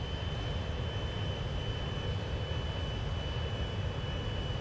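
Steady, loud jet roar of a McDonnell Douglas Harrier II in a flight simulator game as it comes in to land, a continuous engine drone with a thin high whine running through it.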